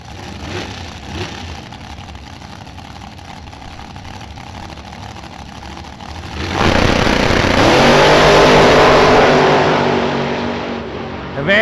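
Dragster engines at Kil-Kare Dragway idle and rumble before erupting into a loud roaring launch, the race cars screaming down the strip and fading slightly as they pull away.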